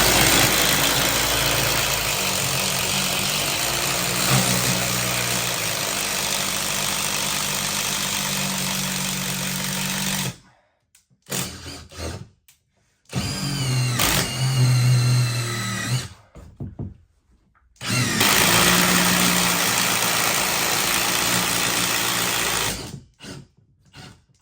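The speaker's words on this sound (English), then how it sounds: "I can really push the drill from underneath and use my legs to push up." A power drill bores upward into tough 1970s wood from below, a loud, steady motor whine and grinding that cuts out twice, with short stop-start bursts between long continuous runs.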